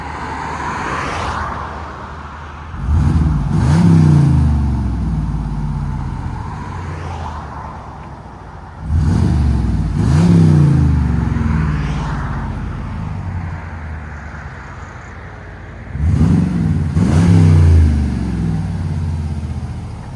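2022 Jeep Wagoneer with a 5.7L HEMI V8 and true dual exhaust, heard from outside with the exhaust valves closed: three separate revs, each a muffled, deep rising surge that then settles back to idle, fairly subdued, with no talking.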